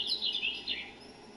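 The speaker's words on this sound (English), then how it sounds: "Little bird right there." Short bird chirps in PGA Tour 23, a golf video game, bright tweets repeating quickly at moderate loudness with no talk over them.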